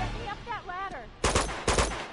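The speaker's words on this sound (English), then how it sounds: "We got snipers!" Sniper fire in the video game Uncharted 2, two sharp, loud gunshot cracks about half a second apart, following a stretch of whistling, warbling game sound with a low background rumble.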